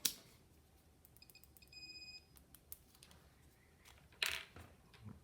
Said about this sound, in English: let me do some continuity testing on it and see how fast it is.